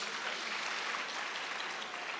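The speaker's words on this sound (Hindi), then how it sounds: "ताली त बजाउनुस् हजुर।" Faint audience applause, a steady even wash of many hands clapping at a distance with no distinct individual claps.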